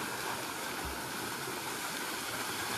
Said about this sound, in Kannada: ಫಾಲ್ಸು ನಮ್ಮ ಎವರ್ಗ್ರೀನ್ ಕೌಂಟಿ ಫಾಲ್ಸು ಸ್ಟಾರ್ಟ್ ಆಗಿದೆ.